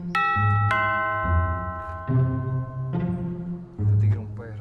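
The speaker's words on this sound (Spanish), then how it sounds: "no toque el maldito timbre ya." A doorbell rung again and again, each press giving a bright, ringing chime that sustains and overlaps, repeated five or six times in quick succession.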